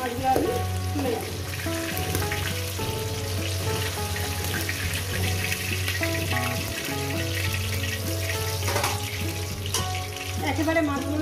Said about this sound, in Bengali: এই মাছগুলো আপনাদের ভাজা দেখিয়ে দিলাম। এইভাবে ভেজে নেবেন।